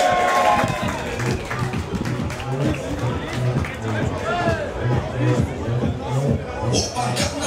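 Spectators at an amateur rugby match in Saint-Barthélemy applaud as a substitute player enters the field, steady scattered clapping and crowd babble under a loudspeaker announcer's talk, with a rhythmic thumping band beat throughout.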